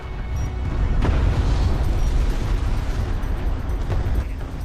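A railgun unit explodes during a Deserts of Kharak match, heard as a sustained loud rumbling blast with a sharper burst about a second in, followed by continuing battle roar.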